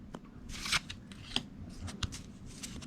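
Quiet crinkly tearing and ripping of a Pokémon card pack being opened, with a few sharp foil crackles and shuffling card sounds close by, with no voices.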